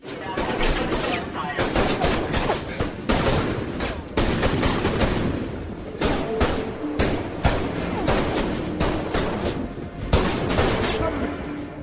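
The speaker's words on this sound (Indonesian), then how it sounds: "Tak berselang lama pihak kepolisian berdatangan dan terjadi adu tembak dengan Gabriel." Rapid gunfire in a shootout between police and a robber, dense bursts of shots packed together across the whole stretch, loud and close with echoing cracks.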